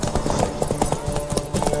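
Horses gallop in a derby race in the video game The Witcher 3, with a dense, steady clip-clop of many hooves pounding close and loud throughout.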